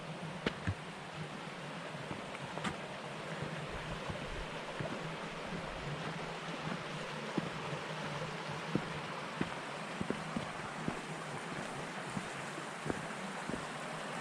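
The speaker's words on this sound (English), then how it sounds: "So there's Kanarra Creek just below us." Kanarra Creek runs in a small canyon just below a hiking trail, its water giving a steady, even rushing wash that continues unbroken throughout, with light scattered ticks and no voices.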